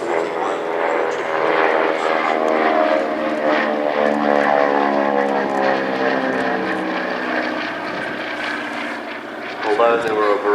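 A vintage Lockheed propeller aircraft dating from 1932 flies past at an air festival, a loud, steady droning engine with a rich harmonic buzz that shifts in pitch as it passes, while a voice talks over it.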